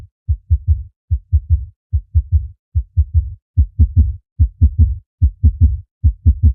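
Kick drum pattern with warm tape saturation distortion, short thumping low hits in quick repeating groups, gaining a grittier edge partway through, alone and dry.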